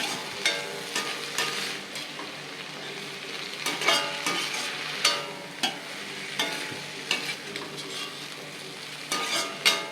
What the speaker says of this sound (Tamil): இப்போ இது எல்லாத்தையும் நல்லா வதக்கணும்.